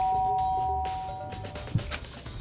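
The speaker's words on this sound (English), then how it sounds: "Press the doorbell." A doorbell in a video game rings with a clear ding-dong chime that rings out and fades, followed by faint background game sounds.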